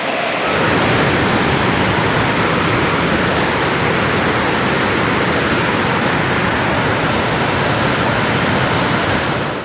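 Rushing floodwater in a hillside stream during monsoon rain, a loud, steady, broadband roar of turbulent water filling the scene without pause.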